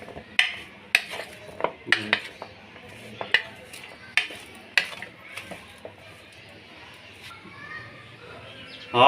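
Potato chips being tossed with cornflour in a bowl give a run of sharp clinks and scrapes, close and irregular, with a few louder knocks spaced through the mix and a brief clatter at the end.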